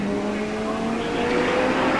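An IndyCar race car at the 1995 Miami Grand Prix, heard loud and close at the moment it crashes through the barriers, a steady harsh engine and tire roar with a sustained tonal whine.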